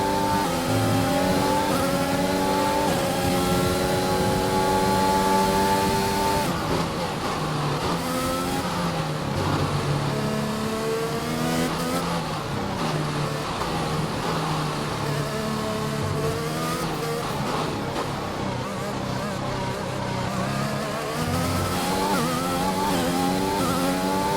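A Formula 1 race car in the F1 2021 video game screams through a lap, its engine revving high and dropping through gear shifts, continuous and loud throughout with occasional tire squeal.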